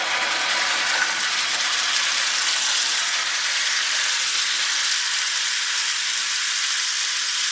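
Hand-shaped beef patties fry in a pan with a loud, steady hiss and crackle of sizzling fat that holds constant throughout, with no talking.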